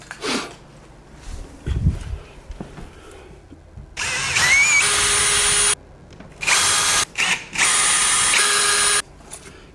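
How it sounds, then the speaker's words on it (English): Cordless power drill pre-drilling holes to mount barn door hardware, with two sustained high whirring bursts of a couple of seconds each, close and loud, preceded by softer handling clicks and knocks. "we're going to pre-drill"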